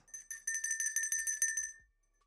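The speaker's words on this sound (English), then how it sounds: "ringing the Liberty Bell for you" A Liberty Bell sound effect: a bright, metallic bell rings repeatedly in quick succession, a sustained high tone with rapid strikes, then fades out.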